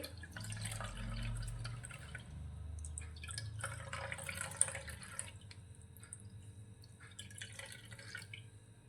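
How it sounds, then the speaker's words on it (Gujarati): Cumin sharbat mixture drips through a cloth strainer, making soft, irregular patters and trickles that are quiet and close with no voices. "આ રીતે કપડાની મદદથી તેને આપણે ગાળવાનું છે"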